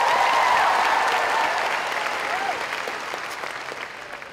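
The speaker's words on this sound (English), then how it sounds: "Give him a round of applause." Large crowd at a Steubenville youth conference event claps and cheers loudly, the applause strong at first and slowly fading, a few whoops rising above it.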